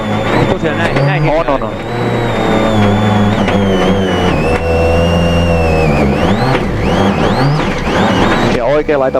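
Marcus Gronholm's rally car crossing the Col on the Monte Carlo Rally, its engine revving loudly and steadily through shifting pitch and gear changes, with commentary running over it.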